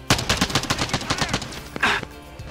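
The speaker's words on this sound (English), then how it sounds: "He's just standing there shooting him." Rapid automatic gunfire from Modern Warfare, a fast burst of about a dozen sharp shots followed by a couple of louder isolated reports, close and dominant with no talk over it.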